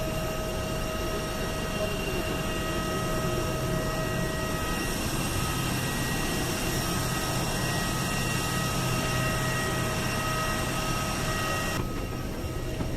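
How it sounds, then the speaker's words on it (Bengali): Inside an airplane cabin during passenger boarding on a flight from Bangladesh to Bahrain, a steady, loud drone of engines and ventilation hums continuously with faint whining tones and no clear voices. "এই তো বিমানের ভিতরে উঠতেছে"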